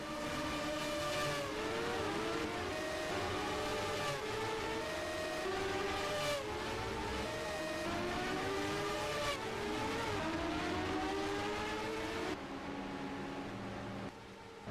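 Champ Car race cars leaving pit lane in a steady stream of whining, rising and falling engine notes as they pass one after another, loud and continuous with no talk.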